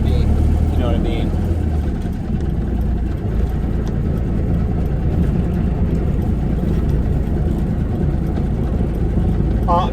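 A 1983 Spring Ride cabover truck fitted with a CabMate air ride runs close by, a loud, steady low diesel rumble that holds throughout while someone talks.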